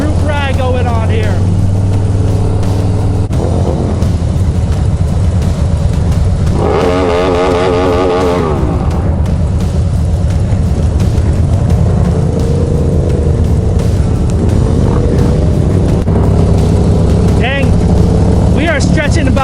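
A large group of motorcycles rides together in a staggered formation with a police escort at a solidarity rally, a steady close engine roar with passing revs and wind rush, a voice speaking over it.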